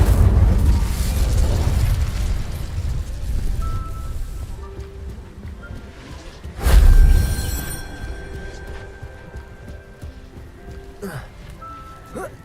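Incendio fire spell cast in Hogwarts Legacy: a loud whooshing burst of flame at about seven seconds over a rumbling game soundscape, with an earlier roaring stretch and a brief crackling flare near the end.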